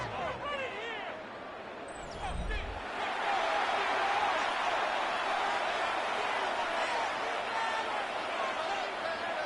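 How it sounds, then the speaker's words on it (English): Football stadium crowd roaring on third down, a dense sustained wall of noise that swells after a brief dip and stays loud, with a thud near the start. "The crowd making their presence felt."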